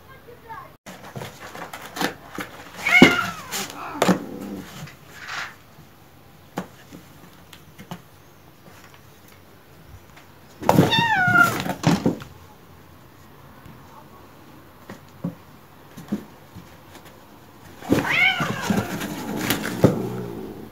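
A Bengal cat and a kitten fight over a box, with three bursts of harsh hissing and yowling meows separated by quieter stretches of scuffling, close and fairly loud.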